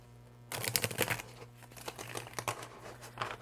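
Soft papery tarot card shuffling: rapid riffling and flicking bursts, quiet and close, with brief pauses between shuffles.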